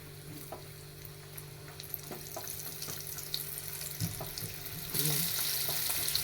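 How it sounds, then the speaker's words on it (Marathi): Mandeli fish fry in a little oil on a flat pan, giving a continuous sizzle with scattered crackles and scraping stirs that gets brighter and louder toward the end. "कमी तेल ठेवून तव्यात मध्ये तळत तरी सुद्धा चालतंय"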